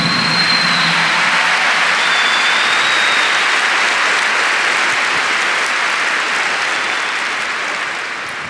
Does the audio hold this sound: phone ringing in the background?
no